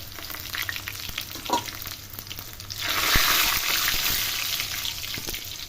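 Garlic sizzles and fries in a pan of oil for a simple drumstick dal charu, a steady crackling hiss that swells louder partway through, with a brief stir or clink early on.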